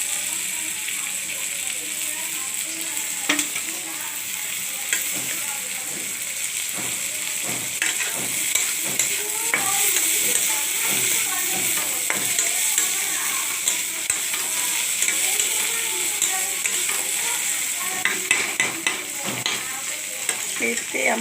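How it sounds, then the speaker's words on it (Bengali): Fried shrimp and fried eggplant sizzle in a pan while a utensil stirs them, giving a steady frying hiss broken by repeated scraping and clacking strokes. "তো এরপর আমি দিয়ে দিচ্ছি এই চিংড়ি ভাজাটা।"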